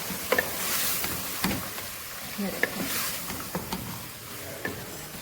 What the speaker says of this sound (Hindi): अब हम इसमें मोंगरे ऐड करेंगे और अच्छे से मिक्स कर लेंगे